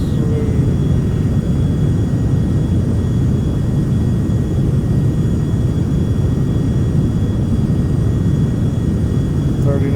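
Aircraft jet engines at full throttle during a climb near 40,000 feet give a steady, loud cabin roar with a constant low rumble and faint whine. The sound holds unchanged throughout.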